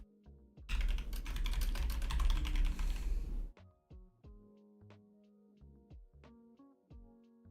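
Fast typing clatters on a computer keyboard, first as a dense, loud burst of rapid keystrokes for about three seconds, then slowing to separate, distinct clicks and taps close to the microphone.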